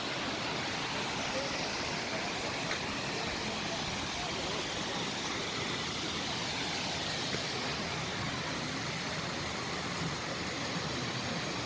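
Chiang Tung waterfall in Myanmar, a steady, even rush of falling water that fills the whole stretch as a broad, constant roar with no breaks.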